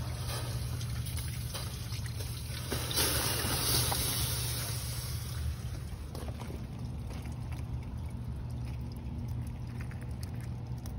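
Water drains steadily from a drain on a Ford Mustang, a constant rushing trickle with broad hiss throughout, a low hum beneath and a slight swell partway through.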